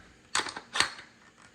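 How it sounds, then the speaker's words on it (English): Rifle bolt being locked back, two quick close metallic clacks in succession, fairly soft. "Of course, I gotta lock the bolt back."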